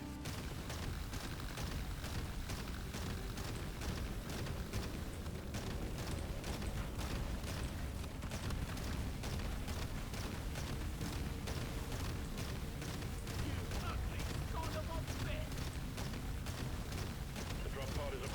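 Cryo grenade explosions in Deep Rock Galactic: Survivor go off in a dense, continuous barrage of rapid bursts over a busy game soundscape, loud and relentless throughout.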